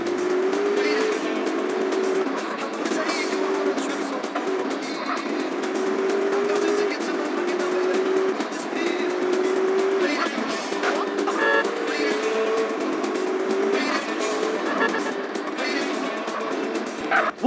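A car chase in GTA San Andreas roars with continuous engine drone and rising revs, sirens or tire squeals layered on top, loud and unbroken, with occasional talk underneath.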